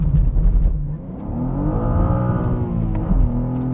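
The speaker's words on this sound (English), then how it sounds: "The clutch just slips like crazy going into second gear." A manual BMW G87 M2 six-speed with a RaceChip GTS Black tune accelerates hard, its engine note rising in a steady climbing harmonic sweep with the clutch slipping into second gear, loud and close with no talk.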